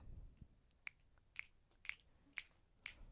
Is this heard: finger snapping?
yes